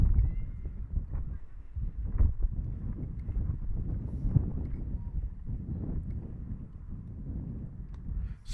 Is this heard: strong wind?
yes